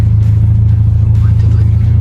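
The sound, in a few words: car accelerating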